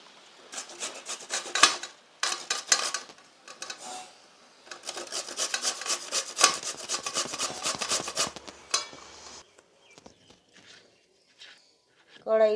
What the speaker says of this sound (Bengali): এবারে আমি পেঁপেগুলোকে